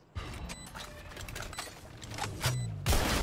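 Gunfire from the tactical shooter game Valorant: a string of sharp, mid-loud shots through the clip, with a heavier burst near the end, set against busy game ambience.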